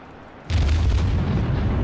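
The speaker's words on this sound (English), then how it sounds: "You can see we're under fire from destroyers, out of the smoke." A heavy naval gun salvo in a World of Warships battle, a sudden loud boom after a quieter rumble, then a sustained roaring blast that holds without talk.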